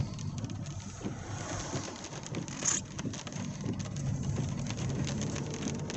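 Steady patter of rain falling on surfaces nearby, with a soft low rumble underneath and a faint bird call partway through.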